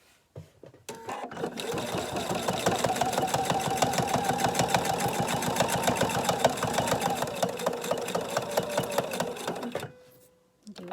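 A sewing machine stitches across a placemat in one steady, rapid run of needle strokes lasting about nine seconds, starting and stopping abruptly, close and loud with no talk.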